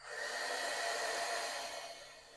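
A heat embossing tool blowing hot air, a steady close whooshing hiss like a small hair dryer that runs evenly and then tapers off near the end, with no talking.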